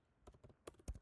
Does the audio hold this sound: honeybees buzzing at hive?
no